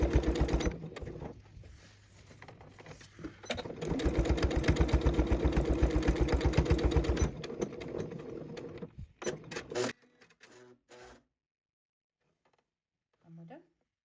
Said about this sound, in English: an automatic back stitch, and I'm sewing very slowly and it's very close to the edge